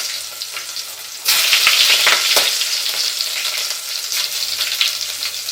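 Asafoetida drops into hot oil as a tempering for brinjal curry, bursting into a loud, bright sizzle that carries on steadily with crackles and stirring scrapes, no speech.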